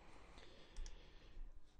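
A few soft, faint clicks of a computer mouse while working in Photoshop, scattered over a quiet, slightly noisy background.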